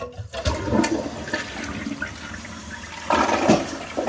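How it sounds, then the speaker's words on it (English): A Kohler toilet flushes in a bathroom after a repair, with a loud close rush of water that swirls and drains, then surges again briefly. "let's give it a flush"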